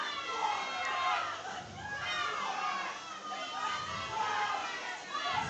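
A crowd at a high school powerlifting competition cheering and shouting in support of a lifter, a steady mass of voices and calls that carries through the whole stretch, moderately loud and somewhat distant.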